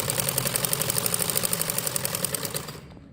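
A sewing machine stitching the folded fabric of an umbrella frock, running steadily with a fast, even mechanical chatter of needle strokes that stays loud and close before stopping abruptly near the end.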